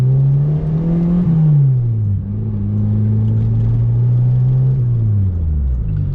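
Peugeot 205 XSI engine pulling in first gear, a steady mid-pitched drone that rises and dips slightly as revs change, close and continuous throughout with no talk.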